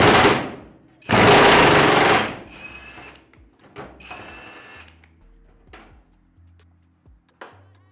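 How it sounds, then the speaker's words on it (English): A Harbor Freight Hercules Ultra Torque impact wrench busting rusty nuts on a 1967 Mustang Fastback, two loud close hammering bursts about a second each, followed by quieter clanks and rattles. "This right here, Harbor Freight, the Hercules Ultra Torque, busts any nut."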